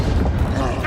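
A Confringo blasting spell in Hogwarts Legacy erupts as a short, loud, booming burst of noise that fills the whole moment.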